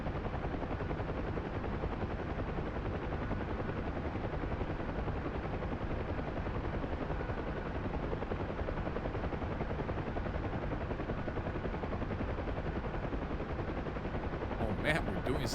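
Huey helicopter in a flight video game flying fast low over the deck in bad weather, a dense steady rotor and engine roar lasting throughout at constant loudness, with a brief crackle near the end.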